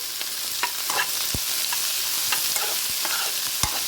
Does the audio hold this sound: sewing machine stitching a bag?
no